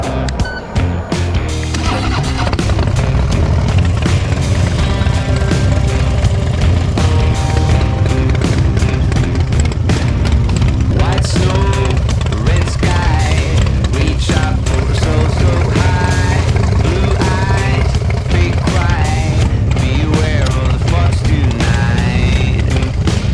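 Harley-Davidson motorcycle running on the road with nitrous oxide, a loud, continuous, dense engine roar with wind noise heard from on board, sustained throughout.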